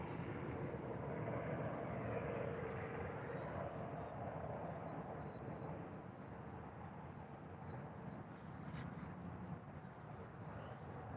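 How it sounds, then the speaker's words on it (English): A helicopter flying overhead from a nearby hospital, a low, steady rotor drone filling the whole stretch, fairly distant and fading slightly midway. "Dag blasted helicopter is always in my videos."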